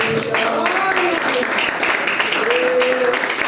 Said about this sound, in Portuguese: Vamos aplaudir Jesus, queridos.